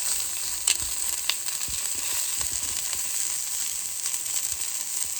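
Food sizzles steadily on a Callow four-burner plancha, a continuous bright frying hiss with a few faint scrapes and taps of a cooking tool, no voices.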